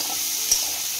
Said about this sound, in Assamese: চব্জিখিনি আগতে এনেদৰে ভাজি লৈছোঁ